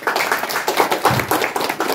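Audience clapping at an Assamese book launch event, a steady burst of many hands applauding together for the full stretch, fairly loud and close, with no voices over it.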